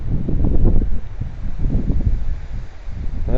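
Strong wind gusting during a fishing outing, heavy low buffeting and rustling against the microphone, loud and close, with faint voices mixed in.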